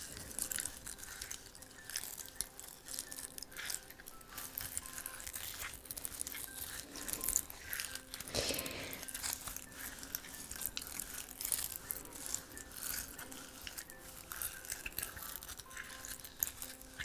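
Acorn caps and dry leaves crinkle and crunch as they are handled outdoors on an autumn evening, with soft, close, continuous rustling that swells briefly in the middle.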